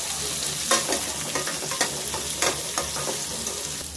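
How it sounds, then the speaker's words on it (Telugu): Onion and green chillies sizzle in a pan, a constant close frying hiss broken by a few sharper crackles and stirring clatters spread across the few seconds. "వేగాక పచ్చిమిర్చి, ఆనియన్ వేసుకోవాలి. ఫ్రై అవ్వాలి ఆనియన్,"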